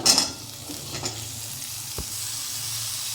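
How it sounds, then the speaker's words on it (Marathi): Red pumpkin pieces go into a hot frying pan with goda masala and are stirred. A sharp sizzle and clatter at the start settle into a softer, steady frying hiss with a single clink near the end. "आता यात लाल भोपळ्याच्या फोडी घालून घेऊ,"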